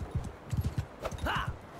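Horse hooves clip-clopping in the medieval combat game Mount & Blade 2: Bannerlord, a quick uneven run of about a dozen hoofbeats, close and moderately loud, with a faint whinny-like tone near the end.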